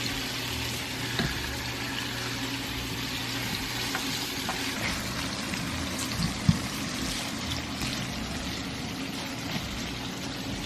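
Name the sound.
garlic stir frying in pan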